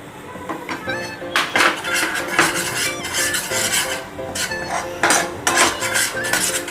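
Sieved besan gram flour is stirred into melted ghee in a pan over low heat, making repeated scraping and rasping strokes of a spoon against metal, with occasional clinks, loud and close.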